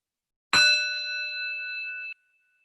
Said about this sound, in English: I'm going to start the practice with a chime of a bell.